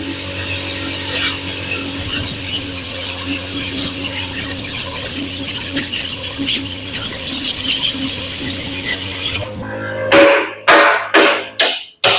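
Two bolts being cut out of a fertiliser spreader bogey in a workshop: a steady, harsh grinding roar for about ten seconds, then several sharp metallic knocks as the cutting stops.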